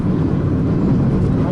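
Hyundai Creta 1.6 16v engine droning loudly at high revs on a highway, a steady broadband roar with road and wind noise that holds constant throughout.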